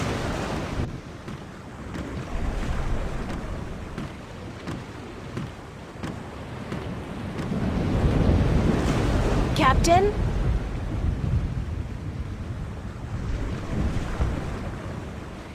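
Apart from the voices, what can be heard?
storm at sea with waves and thunder, video game The Longest Journey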